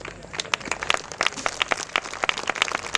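Applause fills a school valedictory hall, with distinct sharp claps from nearby hands over a thinner crowd clapping behind, steady and lively throughout.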